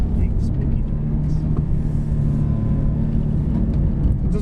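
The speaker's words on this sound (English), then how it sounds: "Craig, I spun it" A car on worn tyres spins out through a corner, its engine holding a loud, steady roar with rumbling low-end noise from start to finish.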